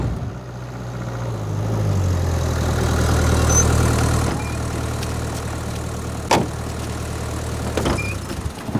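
A car engine idling at night, a steady low hum that swells slightly then settles, with a couple of brief knocks or clicks over it and no speech.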